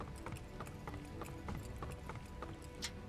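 A horse gallops in Dynasty Warriors 8, a battle video game, with quick repeated hoof clatters in a steady driving rhythm under a busy game soundscape.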